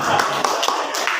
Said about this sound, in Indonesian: Tepuk tangan tuh Pak Budi.